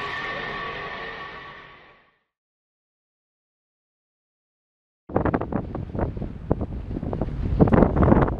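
Wind gusts buffet the microphone outdoors at an air museum: a loud rushing roar fades out, the sound drops to near silence for a few seconds, then heavier, choppy buffeting returns.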